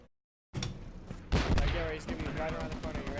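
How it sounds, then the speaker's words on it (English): Bursts of video game gunfire from an enemy Stryker vehicle, sharp cracks and rapid shots ringing out at mid-distance amid battlefield noise, after a brief silence. "So I can hear him shooting."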